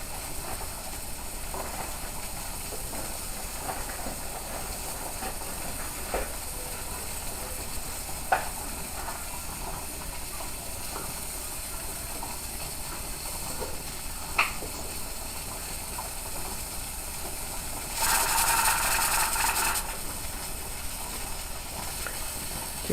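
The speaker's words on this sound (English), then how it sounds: "Now our pressure cooker is up to temperature, and it should jiggle 3 to 4 times a minute," Steam hissing and sputtering from a pressure canner whose weighted gauge jiggles while processing tomato basil soup at 10 pounds of pressure, a steady mid-level sizzle with a louder burst of venting near the end.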